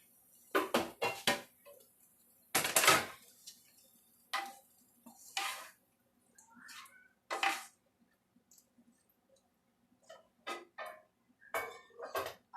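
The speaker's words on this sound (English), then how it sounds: "So I'm going to do a heaping spoon of corn" A spoon scoops heaping spoonfuls of corn onto a plate in a home kitchen, giving close, irregular bursts of scraping and clinking separated by short quiet gaps.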